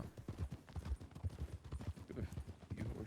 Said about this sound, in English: Got a few horses here.